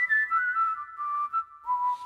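A whistling voice played on a Ketron SD9 keyboard: a clean, sustained whistled melody with steady held notes and small pitch glides, heard alone at moderate loudness.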